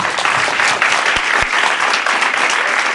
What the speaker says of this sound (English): A loud applause, please.